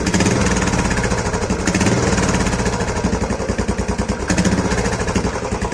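A Royal Enfield Bullet BS6 fitted with an RX100 dB killer exhaust revs loudly and close, with a continuous thumping engine note that rises and pulses through repeated throttle blips.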